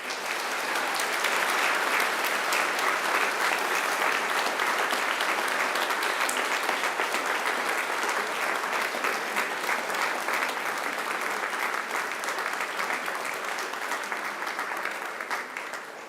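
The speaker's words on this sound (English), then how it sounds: "And now I invite you to give them a mighty round of applause." A large graduation ceremony audience claps loudly and continuously, a dense even wash of applause that tapers slightly at the end.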